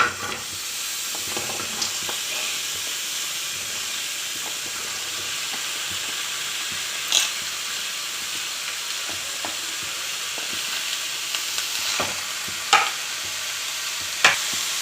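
Cut bottle gourd pieces fry in a hot kadai with a constant bright sizzle, broken now and then by faint stirring clicks and a few sharper pops.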